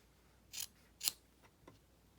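Scissors cut fabric for a hand-sewn finger puppet with two crisp, close snips followed by a fainter third, in an otherwise quiet room.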